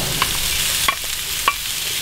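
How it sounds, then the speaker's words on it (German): Onions stirred into a hot pan alongside diced sucuk sausage, giving a soft steady sizzle broken by three quick scraping clinks of a utensil against the pan. "Wenn die Pfanne heiß ist, gehen wir direkt mal unsere Zwiebeln dazu"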